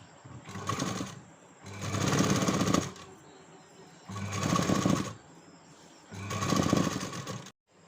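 A sewing machine runs in four loud, steady bursts with short pauses between them while a blouse neck is being stitched.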